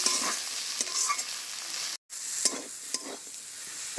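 Fried potatoes and eggs are stirred and scraped around a hot pan. Scraping strokes sit over a constant sizzle, with one short break in the middle.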